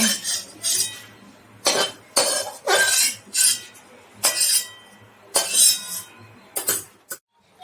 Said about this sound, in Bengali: ভাজা কুমড়োর বীজগুলো আমি তুলে নিচ্ছি